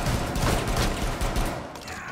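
Dense burst of rapid video-game gunfire, a loud sustained fusillade of overlapping shots lasting a couple of seconds and dipping briefly midway.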